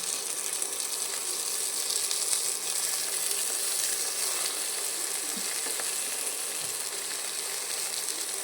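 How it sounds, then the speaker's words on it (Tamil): Onions and tomatoes sautéing in a pan give a steady, close hiss of sizzling that runs unbroken throughout, with no talking. "வதங்கினோடனே நம்ம வெட்டி வச்சுருந்தோம் தக்காளி எடுத்து ஆட் பண்ணிக்கணும்"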